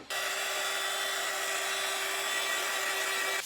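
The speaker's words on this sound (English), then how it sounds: "the sanding it back just so it feels nice when I touch it" Power sanding of a wooden sign board, a steady high-pitched whirring hum that starts abruptly and holds loud and unbroken, with no voices.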